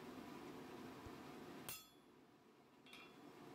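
A blacksmith's hammer strikes a touch mark into forged iron on a braided-twist shovel piece, with one sharp metallic clang and a fainter ringing hit afterward in a quiet shop.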